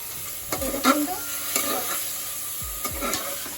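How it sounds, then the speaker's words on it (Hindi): Garlic and onion paste sauté in a pan for mutton curry, a low steady sizzle with a few distinct scrapes and clinks of a stirring spoon, close by and with no speech. "एबे देखंतु रसुन और प्याज टिके भलसे कसे साथी।"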